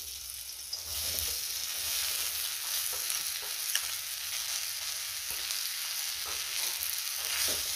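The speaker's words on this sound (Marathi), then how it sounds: "त्याच कढईमध्ये साधारण 1 चमचाभर तेल घातले आणि त्यामध्ये आपल्याला हा कांदा लाल होईपर्यंत भाजून घ्यायचा आहे" Chopped onion frying in about a spoonful of oil in a kadhai for a village-style chicken curry: a close, continuous hissing sizzle with occasional stirring scrapes and clicks, steady throughout with no voices.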